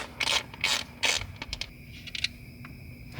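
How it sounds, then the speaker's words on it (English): T20 Torx screws being backed out of a MAF sensor on a GR Corolla intake, giving a few sharp ratcheting bursts up close, then lighter clicks and taps. "go ahead and grab a T20 and screw them off"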